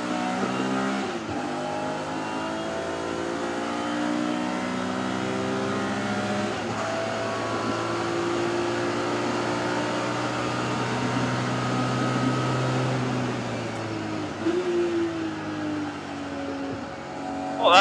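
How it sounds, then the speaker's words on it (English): Thunder Saloons race car engine at Silverstone International circuit, revving steadily and climbing in pitch, with distinct gear shifts breaking the rising drone, loud and continuous from inside the car. "On the power, short shift into fourth"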